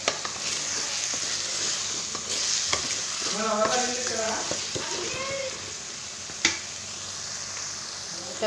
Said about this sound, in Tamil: எல்லாமே நல்லா வதங்கிடுச்சு இந்த எண்ணெயும் திறந்து வந்துடுச்சு